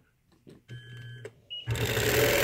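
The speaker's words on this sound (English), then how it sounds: "I'm going to stitch down, and I'm going to stitch back up and end up in the center right where all my other stitching started" A sewing machine stitches fabric along a ruler, starting with a few handling clicks and short whirring bursts before settling into a loud, continuous close-up hum of stitching.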